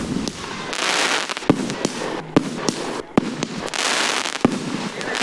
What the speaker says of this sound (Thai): เมื่อกี้มีคน จุดพลุไปแล้วหนึ่งดอกจาก 10 เหลือ9นะครับ